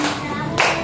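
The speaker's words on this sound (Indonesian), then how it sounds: "tepuk tangan" Hands clapping during a guided group movement routine, a short burst of claps bright over steady background music and voices.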